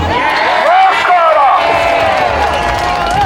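A crowd at a Glasgow unity rally cheers and shouts loudly and continuously, with whoops and voices rising over a dense roar close by.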